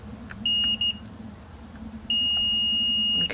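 Multimeter continuity tester beeping while probing points on a GTX 1060 graphics card under repair: a short steady tone, a quick second blip, then a longer sustained beep, loud and close over a faint low hum.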